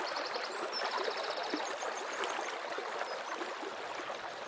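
Peć Bistrica River rushing through the Rugova Gorge, a steady broadband roar of flowing water that stays close and even throughout, with no voices over it.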